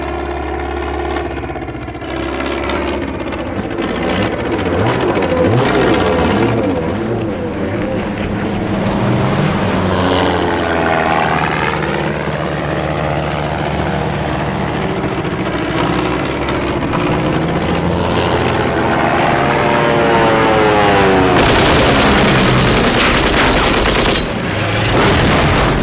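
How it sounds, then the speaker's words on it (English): Bomb run in the WaterWorld live sea war stunt show: a long, loud, dense mix of roaring aircraft, motorboat engines, bursts of gunfire and explosions, with engine pitches sweeping up and down and a big blast near the end. "This is a bomb run in the show."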